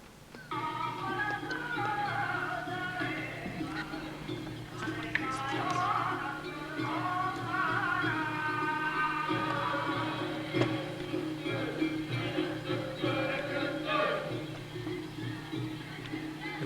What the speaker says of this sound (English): that's a bon dance